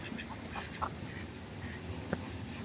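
Village ducks quack in a few short scattered calls at moderate distance, over a steady outdoor background hiss, with no talking.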